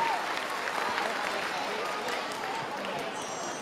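Steady audience applause in an arena as table tennis players Ma Long and Wang Hao are introduced for an exhibition match, a dense even wash of clapping with no talk over it.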